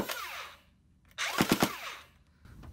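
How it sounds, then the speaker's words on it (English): A modded Nerf Stryfe flywheel blaster fires a quick three-dart burst, with the motors whining up and down around three rapid thumps at close range. "It change to burst. 3 round burst."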